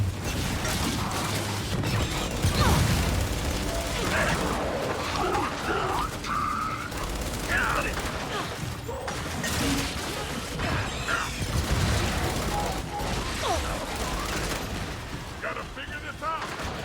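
Intense firefight in the video game Gears 5, with dense gunfire, explosions and clattering mechanical sounds running continuously at high volume, mixed with in-game voices.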